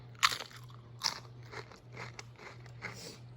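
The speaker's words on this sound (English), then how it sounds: "So I'm gonna give an ASMR crunch as well." Close, crisp crunches of a spicy coated limited-edition Pringles chip being bitten and chewed, two sharp snaps followed by softer rhythmic chewing crackles over a faint low hum, with no talking.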